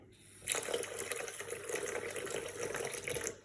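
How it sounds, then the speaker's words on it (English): A tap on a newly plumbed kitchen island opens after a short pause and water runs steadily, splashing close by for a few seconds before it fades. "running water"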